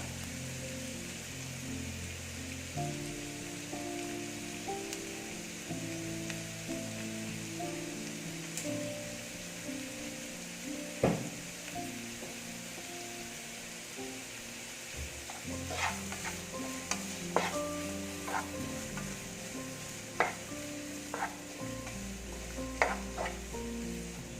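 Onions sautéing with a pinch of salt in a pan give a steady, moderate sizzle, with a low hum underneath and scattered clicks and scrapes of a spoon stirring toward the end.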